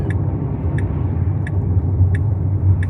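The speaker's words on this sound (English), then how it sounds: "Paul, turning with his Porsche, is coming in here." A Porsche turning in off the road, its engine a steady low rumble close by with no talk, a faint ticking repeating about every 0.7 seconds above it.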